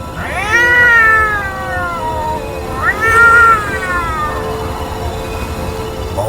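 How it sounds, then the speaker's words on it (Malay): A cat meows loudly twice, long drawn-out wails separated by a short pause, close and prominent over a steady background hum. "Kemudian dia mendengar pula bunyi kucing mengiau dengan kuat."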